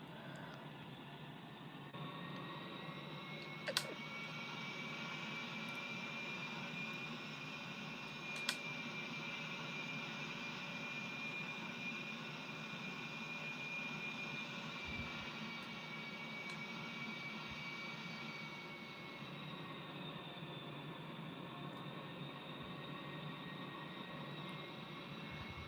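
A simulated aircraft comes in to land in a flight simulator game, giving a long, steady engine drone with a faint high whine and two sharp clicks.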